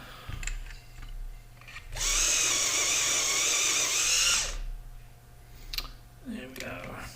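An electric pencil sharpener grinds a drawing pencil in one burst of about two and a half seconds, a loud close buzzing whir set between quiet clicks and handling noises.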